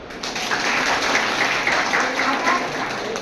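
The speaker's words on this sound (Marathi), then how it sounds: "सगळ्यांनी टाळ्या वाजवा." An audience at a lecture on therapeutic diet applauds, a dense, steady burst of many hands clapping together for about three seconds.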